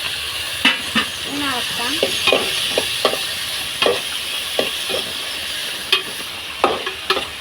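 Tomato and green chillies sizzle and fry in a pan, with a spoon stirring and scraping in a steady stream of clicks over a continuous hiss; a voice speaks briefly partway through.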